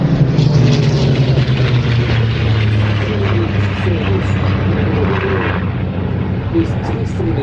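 Spitfire piston engines drone steadily and loudly as the aircraft fly past at an air show, with a commentator talking over the sound.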